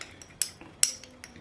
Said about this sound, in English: So I am just going to take and mix this preservative of 1 gram of Dermal Plus that I'm putting in here